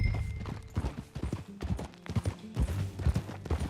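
Horse hooves clip-clop in a quick trotting rhythm in Red Dead Redemption 2, close and steady, with a few brief thuds and bits of music in the background.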